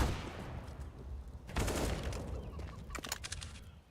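M4 rifle fire in a Counter-Strike match: rapid bursts of gunshots crackle through noisy game audio, with a dense volley midway and several sharp shots near the end.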